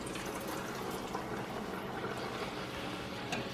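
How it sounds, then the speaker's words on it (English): Donut dough fries in hot oil in a home kitchen, giving a steady, low sizzle and hiss that stays even and continuous throughout at close range, with no talking. "you're supposed to let it fry for about a minute on each side"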